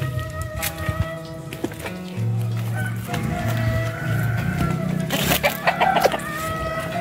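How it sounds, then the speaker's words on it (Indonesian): Chickens cluck near a riverside village home in Rumpin, Bogor, during the dry season. A rooster-like call rises among steady, fairly close clucking over a busy outdoor background. "Ayam kotok-kotok."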